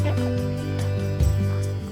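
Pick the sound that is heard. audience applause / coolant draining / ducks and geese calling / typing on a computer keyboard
ducks and geese calling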